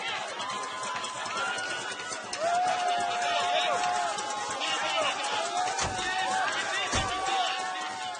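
An ecstatic crowd greeting a fighter at Benin City Airport, a dense loud mass of cheering, shouting and chanting voices with rising calls and some thumps and claps throughout.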